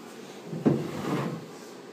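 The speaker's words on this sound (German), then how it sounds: "vielleicht machst du die Tür auf" A door is opened near a whelping box, giving one soft knock or thud followed by a brief sliding, creaking scrape, quiet and close.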